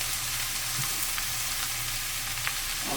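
Corn frying in grease in a pan for homemade country fried corn, a steady, close sizzle with faint crackles and small pops throughout, no talking.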